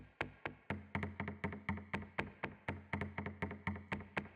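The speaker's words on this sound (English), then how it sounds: "So what this is it's these 2 little percussive sounds" Two small percussive hits from an electronic drum rack in a minimal house track, repeating in a steady, syncopated pattern of short, sharp taps with quick decays, close and dry with no voices.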